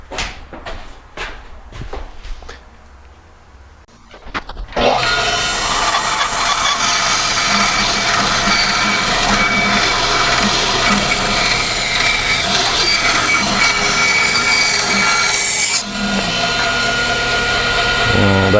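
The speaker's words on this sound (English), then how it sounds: "so we'll bandsaw that out now" Bandsaw cutting a curve in wood for a Chapin highboy chest: a few sharp knocks and taps, then the saw starts and runs loud and steady close by for over ten seconds before the pitch changes near the end.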